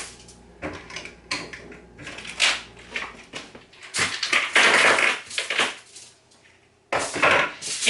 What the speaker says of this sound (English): I'm just going to use that old standard tin foil and